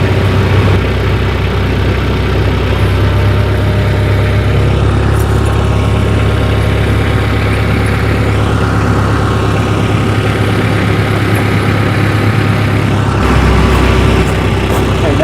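A tractor fitted with pewag tire chains drives slowly forward in winter, its engine a steady loud low rumble that drops off near the end, with someone talking over it.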